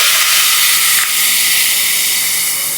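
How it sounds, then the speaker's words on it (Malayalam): Water poured onto sugar in a hot kadai gives a loud, steady steam hiss that carries on without a break and softens only slightly partway through. No voices are heard. "ഇതിലേക്ക് ഒരു 2 ടേബിൾ സ്പൂൺ വെള്ളവും കൂടി ഒഴിച്ചു കൊടുക്കുക"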